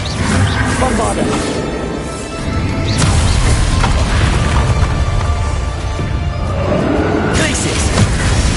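Spell combat in the Hogwarts Legacy video game: continuous dense booms, crashes and whooshing blasts, loud and close, with a voice calling out spell names over the battle.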